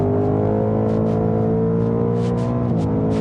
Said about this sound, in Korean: 주행 모드를 스포츠 모드로 바꿔보고 속도를 높여보면